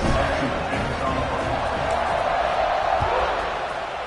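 A football stadium crowd roars after a touchdown, a dense, sustained wash of cheering and noise that fades slightly toward the end, with a commentator talking over it.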